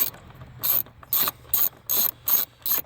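A ratchet wrench clicks in five quick bursts while backing off a 10mm nut under the dash of a Kia Soul, each burst a bright, close, rapid ratcheting with quiet pauses between.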